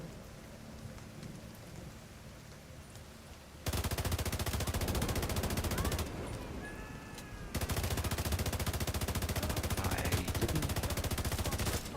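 A slow-firing gun in Destiny fires in steady, evenly spaced rapid shots, loud and sustained in two long bursts separated by a short pause.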